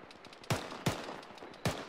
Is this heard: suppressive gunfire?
yes